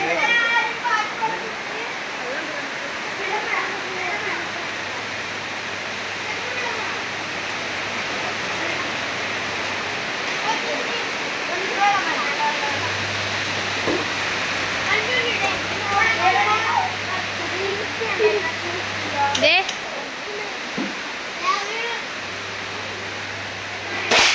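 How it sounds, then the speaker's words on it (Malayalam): Heavy rain pours down as a steady, loud wash of noise, with children's voices and talk heard over it throughout. "നല്ല മഴ"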